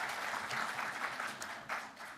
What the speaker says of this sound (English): Can we give a big round of applause for Hannah?